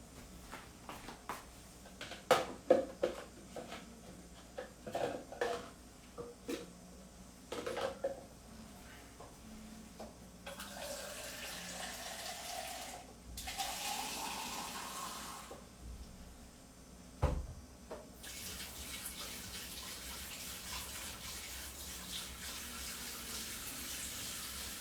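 Tap water runs over a spoon at a kitchen sink, with scattered clinks and splashes at first, then a steady faint hiss of flowing water that stops and starts in long stretches.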